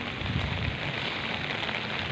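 Rain picks up from a drizzle into a steadier shower, a continuous soft hiss of drops striking surfaces nearby, fairly quiet and unbroken.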